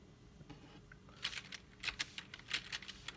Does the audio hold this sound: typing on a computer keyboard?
yes